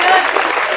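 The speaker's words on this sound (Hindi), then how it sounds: "बेटे क्लैपिंग होनी चाहिए आपकी तरफ से।" An audience applauding at a school prize ceremony, a short dense burst of many hands clapping together, fairly loud and alone.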